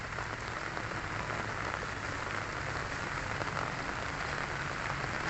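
Rain falls steadily and close by as a dense, even hiss of drops on surfaces, with no voices over it.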